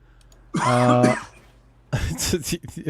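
A voiced, strained throat sound is followed by a burst of rough coughing mixed with talking, close to the listener.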